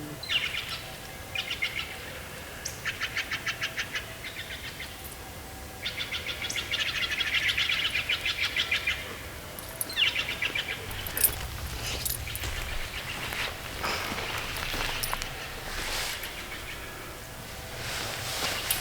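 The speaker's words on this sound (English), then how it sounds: "There's something's over there making a bunch of birds all upset." Several agitated birds chirp and call repeatedly in a forest, the sharp bursts coming in irregular clusters at moderate distance over faint rustling background.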